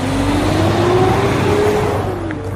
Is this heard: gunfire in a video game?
no